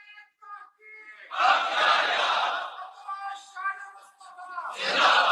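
Crowd at a religious gathering for the Battle of Badr commemoration on 17 Ramzan loudly chanting slogans in unison, two strong bursts of massed voices with a lone voice leading between them.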